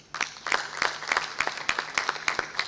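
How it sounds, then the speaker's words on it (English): A few people clap in a loose, regular rhythm at a university graduation ceremony, with distinct, fairly close claps and little crowd noise behind them. "Another round of applause, please."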